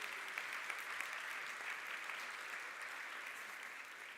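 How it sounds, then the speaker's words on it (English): Sustained audience applause at a university event, a steady dense wash of many hands clapping throughout with no break, moderately distant and fairly even in level. "yes, one more round of applause"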